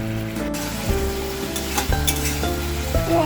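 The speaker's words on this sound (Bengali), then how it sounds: "তো আমার এটা সসটা দিয়ে একটু খানিকক্ষণ নাড়াচাড়া করে নিয়েছি।" Sweetened chilli chicken sauce sizzles loudly in a hot pan as it is stirred, with a steady frying hiss and repeated scraping strokes of the spatula.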